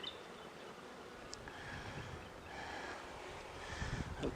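Honeybees droning steadily around an open hive during an inspection, a soft continuous buzz close to the microphone with light wind in the background.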